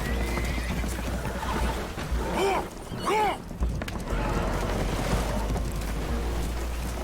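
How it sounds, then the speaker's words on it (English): Spooked horses in the video game Red Dead Redemption 2 neigh and whinny in a couple of sharp, rising cries over a dense rumbling, crashing background, with hooves clattering nearby. "Horses are spooked"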